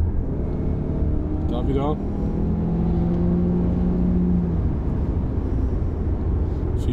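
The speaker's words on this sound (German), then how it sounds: "Jetzt gucken wir, was mit passiert, wenn ich jetzt das Gas durchtrete" A Mazda CX-30 Skyactiv-X 180 PS all-wheel-drive automatic accelerates at full throttle, its engine droning steadily in the cabin with a rising tone, while someone speaks German briefly near the start.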